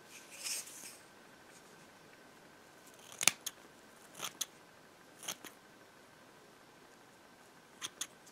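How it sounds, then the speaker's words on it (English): Several quiet, crisp snips of scissors trimming a paintbrush, spaced irregularly with pauses between, including a quick pair near the end, in an otherwise quiet room. "Pair of scissors."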